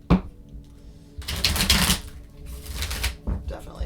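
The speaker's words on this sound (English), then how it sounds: "Definitely shuffling the wrong deck" Riffles and flutters of a deck of playing cards being shuffled, close and crisp, coming in several short bursts with quiet gaps, and a voice speaking between them.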